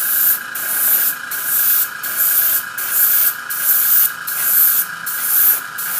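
An airbrush sprays acrylic paint onto a plastic model in steady hissing bursts, each pulse separated by a short pause in an even, repeating rhythm, close and fairly loud against a faint background hum.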